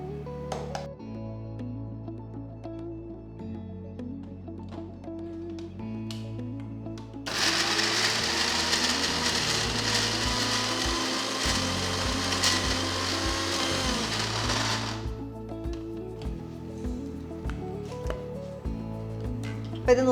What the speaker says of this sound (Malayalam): ഇതെല്ലാം കൂടെ നല്ല സ്മൂത്തായിട്ട് അരച്ചെടുക്കാം.